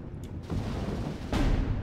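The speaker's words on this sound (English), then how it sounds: "So we got an artillery gun. What's the range? We can shell it from here." Artillery fire from the Steel Division Normandy 44 video game sounds as a deep, heavy rumble of distant shelling, with two broad booming swells and rolling low-end echoes, fairly loud and with no voices.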